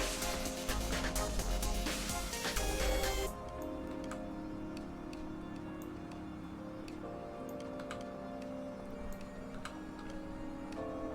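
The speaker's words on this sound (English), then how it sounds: "You can tell how hot your engine is when it's off by the ticking noise." A hot car engine ticking after being switched off in The Long Drive video game, light regular ticks spaced evenly and close, following a louder burst of engine noise that cuts out.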